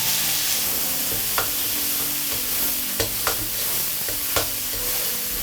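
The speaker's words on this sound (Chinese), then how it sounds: "热锅凉油，给它润一下锅，因为我们炒肉末它容易粘" Minced pork belly fries in oil in a hot wok, giving a continuous close sizzle broken by a few sharp scrapes of stirring, with no talking.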